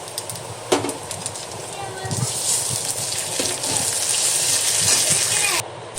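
Onions frying in a pan with ginger paste and garlic paste for a duck egg curry, a steady close sizzle and crackle that swells and continues without a break, with a few faint clatters.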